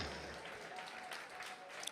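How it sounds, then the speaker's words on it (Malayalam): Congregation clapping at a Malayalam Christian church gathering, a dense, steady wash of many hands held at a fairly low, even level for two seconds. "കൈയടിക്കുന്ന നന്നായി കരങ്ങൾ അടിച്ച്"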